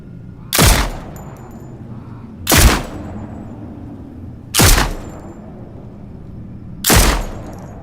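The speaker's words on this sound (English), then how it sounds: "Here, I'll start by firing the pistol, which will currently have its outdoor tail." Four single pistol gunshots from an Unreal horror game, each a sharp loud crack spaced about two seconds apart, followed by a long outdoor reverb tail.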